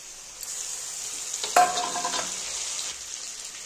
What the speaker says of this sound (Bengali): দেখো সবজিগুলো ভাজা হয়ে গেছে